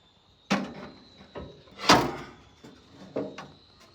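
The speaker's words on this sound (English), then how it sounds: "There's an angle attached on the drawer with the slider for the countertop." A slide-out drawer on a metal slider fitted to a DIY camper outdoor kitchen countertop, giving several short, close clunks and rolling scrapes as it is opened and shut, with one louder knock in the middle.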